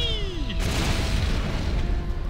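A deep boom of gunfire in a video game, with a brief descending whistle leading into a loud, rumbling blast that decays over the next couple of seconds.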